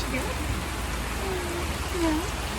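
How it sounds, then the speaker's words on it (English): Steady rain falling hard on a tent during a storm, a dense continuous hiss with faint tonal sounds drifting in the background. "it did rain hard, and it's still raining a lot"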